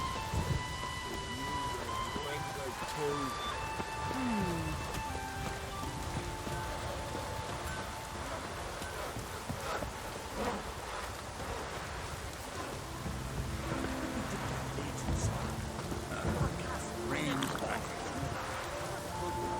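Heavy rainfall in the game Witcher 3, a steady dense hiss of downpour lasting throughout, with occasional low rumbles, distant tonal game sounds and bits of talk over it.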